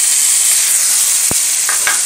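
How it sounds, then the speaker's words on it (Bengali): Fried onions sizzle steadily in a hot pan as tomato paste is added, a constant frying hiss with a few brief sharp crackles and pops near the end. "এবার এর মধ্যে দিয়ে দেবো একটা টমেটো বাটা।"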